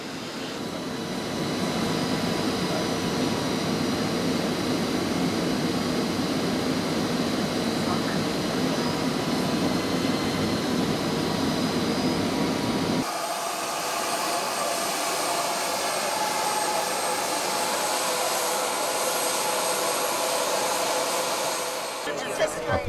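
Aircraft engine droning steadily in flight over an airport, a loud continuous cabin roar that shifts tone partway through and then holds.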